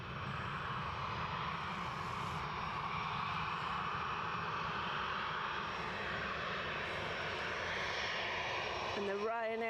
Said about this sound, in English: this Ryanair is coming up is off to Belfast